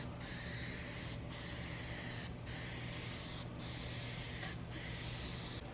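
A spray gun lays a second coat of paint on a 1972 El Camino, giving a continuous soft hiss broken by four short regular pauses between passes, with no voices.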